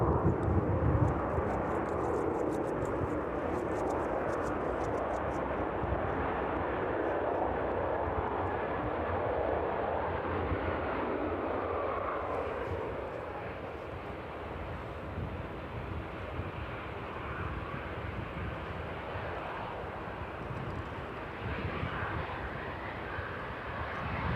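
At East Midlands Airport, an airplane crosses the runway threshold on approach, a sustained, loud jet roar that holds strong, then eases slightly midway before building again as it nears.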